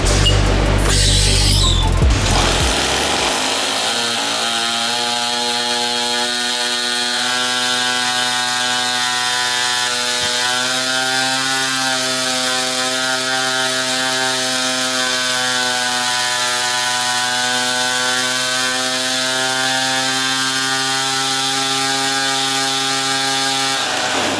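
A 50cc budget kart engine runs on a dyno with nitrous, holding a loud, steady high-pitched drone that climbs slightly in pitch, after a brief rough burst at the start.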